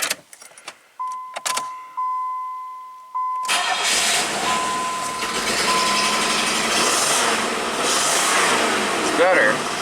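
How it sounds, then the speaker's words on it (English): A 1990 Buick Regal V6 with low power, likely running on five of six cylinders, cranks with chimes and clicks, then fires and settles into a steady, slightly uneven idle close by. "Fire this thing up, see if it runs on 5 out of 6 cylinders"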